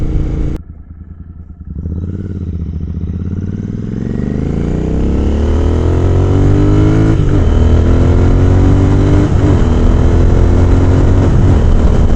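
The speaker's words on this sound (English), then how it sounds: "That way I can get a little more aggressive on the throttle, see how it feels." A Royal Enfield Continental GT 650 twin with a booster plug fitted revs hard on the throttle, its engine note climbing steadily from a low idle into a loud, sustained roar with a few brief dips between gears.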